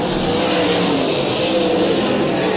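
Sprint cars race around the dirt oval at Valley Speedway in an ASCS National Tour event, a loud, continuous blur of engines roaring together with no gaps.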